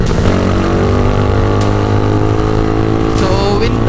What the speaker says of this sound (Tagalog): Pasensya na maingay yung motor ko.